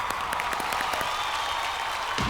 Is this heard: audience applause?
yes